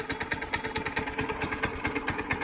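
A go-kart engine, freshly swapped, idles steadily close by with a fast, even putter and regular pulsing firing beats throughout, and no voices over it.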